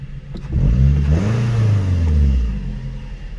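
Close, loud run of a 2002 Toyota Camry engine after a new PCV valve was fitted, with a brief rev that rises and settles back toward a smooth idle hum.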